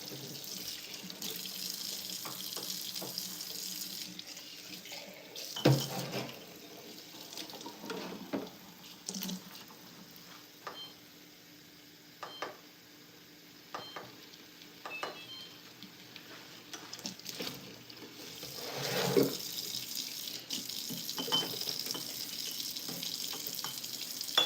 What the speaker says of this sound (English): we're gonna get the hot water up in these things here.